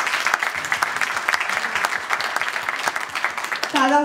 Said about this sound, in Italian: l'applauso deve essere molto più vigoroso